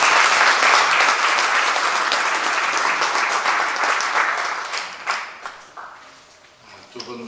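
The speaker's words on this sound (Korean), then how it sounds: "큰 박수로" A church audience at a book launch gives loud, dense applause that holds strong, then thins and tapers into scattered claps and faint room noise near the end.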